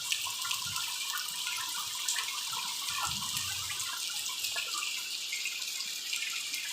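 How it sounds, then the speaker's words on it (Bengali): Rainwater running in a steady stream, a continuous broad wash of flowing water with faint splashy detail, holding an even level throughout with no voices. "জল স্রোতে বয়ে যাচ্ছে"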